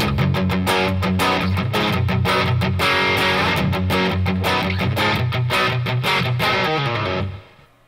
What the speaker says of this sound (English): You turn up the drive, basically turn up the tone all the way, put it on, bridge humbuckers.